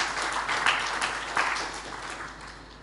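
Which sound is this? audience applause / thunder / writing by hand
audience applause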